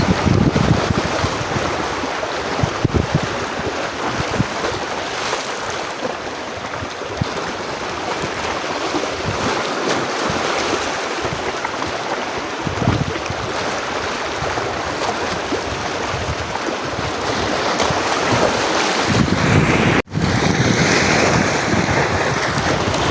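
Ocean waves at Calubacan, Cardona, Rizal surge and wash continuously, blended with gusty wind buffeting the microphone, a steady roar with no voices.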